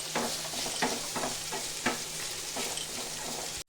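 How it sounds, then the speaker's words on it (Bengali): Cashews and melon seeds fry in a pan with a steady close sizzle, punctuated by a few soft stirring scrapes, with no voices. "আমি এটা একটু ভেজে নেব। কাজু আর মগজ দিয়ে দেব।"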